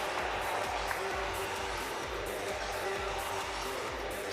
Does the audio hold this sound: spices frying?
no